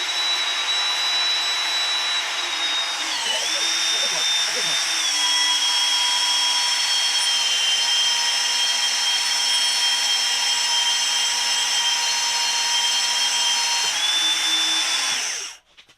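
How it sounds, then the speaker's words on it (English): A drill bores the bolt-pattern holes for a race car trailer winch mount, giving a loud, steady, high-pitched whine up close. It runs for about fifteen seconds with small pitch shifts, then stops abruptly. "Once Bridger gets this drilled and we get ready to fit it and weld it out, we'll give you guys a look."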